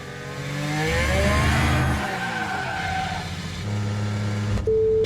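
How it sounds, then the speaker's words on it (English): An F1 car spins out in the F1 Manager 2024 racing game, its engine note swooping up and down through rising and falling revs, followed by a steady lower drone and a brief high tone at the end. "Mag's had a spin."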